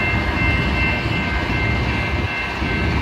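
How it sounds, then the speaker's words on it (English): Blacklands Railroad locomotive LTEX 3000 pulls into a rail yard near Mount Pleasant, Texas, a steady, loud low engine rumble and rolling drone holding throughout without a break. "LTEX 3000 is with Blacklands Railroad, and they just came in to the yard from Sulphur Springs, Texas."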